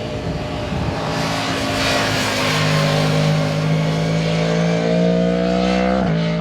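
A Yamaha MT10 motorcycle with a cross-plane engine revs loudly and close, its throbbing note holding steady and then climbing to a higher pitch before dropping away at the end.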